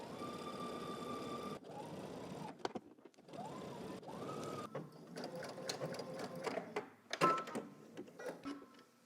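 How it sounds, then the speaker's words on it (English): A home sewing machine stitches a fabric seam with a 5/8-inch allowance while sewing a McCall's M8341 pattern, its motor whirring in several steady runs with brief pauses and starts, close and fairly loud with no talking. "we can go ahead and stitch this together"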